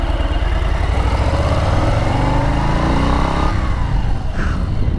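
A 2022 Harley-Davidson Low Rider S being ridden, its engine a loud, continuous low rumble with throttle rising and easing, mixed with wind buffeting.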